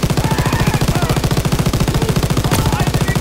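Machine-gun fire in the World War II shooter Call of Duty WW2 hammers out as a rapid, steady stream of loud, close bursts, unbroken throughout.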